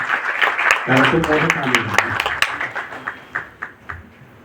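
Scattered hand clapping at an award ceremony rises briefly under a speaking voice, then thins out into a few separate claps toward the end.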